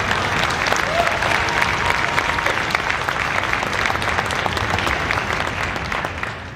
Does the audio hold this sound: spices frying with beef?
no